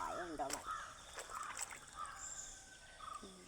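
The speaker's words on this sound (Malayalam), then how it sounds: "കുറെ പക്ഷികളെ സൗണ്ടൊക്കെ കേൾക്കുന്നുണ്ട്." Birds call near a small tarp-lined fishpond beside a stream, with several short caws and chirps scattered at a moderate distance against quiet outdoor ambience and faint trickling water.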